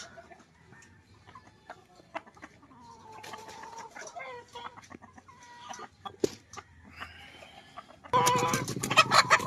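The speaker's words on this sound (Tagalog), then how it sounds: "Mga inahin na manok" Hens cluck and murmur nearby in scattered bursts as they are fed, with a person talking among them and a louder flurry of clucking at the end.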